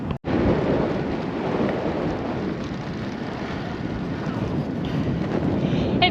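Strong wind buffets the microphone in a loud, continuous roar with low rumbling gusts throughout a solo bike ride, with no talking.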